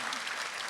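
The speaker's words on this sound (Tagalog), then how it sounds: "Kaya isa po palakpak na malakas sa mga nanay." Loud applause from a church congregation honouring mothers, a short dense burst of clapping from a crowd close by.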